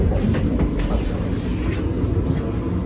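An overnight sleeper train from Beijing to Shanghai rolls along at speed, a steady deep rumble and rattle of the carriage filling the space, with no voices.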